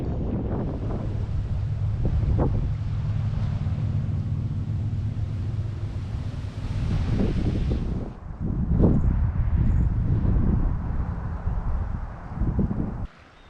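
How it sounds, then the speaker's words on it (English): Strong wind buffets the microphone near the Anacortes oil refineries in Washington, a loud, steady low roar with gusty swells and rumbling, easing near the end; nobody speaks. "it's quite windy"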